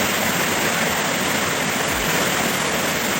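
Water crashing down steadily at Harishankar waterfall in Balangir, a dense, loud, continuous roar of falling water with no break and no voices.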